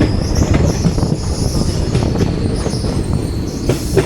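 The Kerala Express, bound for New Delhi, rolls into a station with a continuous rumbling roar of wagons and a faint high wheel squeal, heard close and steady throughout.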